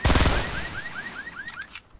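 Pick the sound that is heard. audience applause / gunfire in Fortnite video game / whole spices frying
gunfire in Fortnite video game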